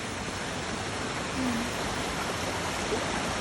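Steady broadband rush of flowing water at a waterfall, with a continuous hiss and splash throughout, loud and alone with no voices.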